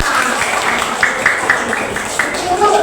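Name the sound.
class clapping hands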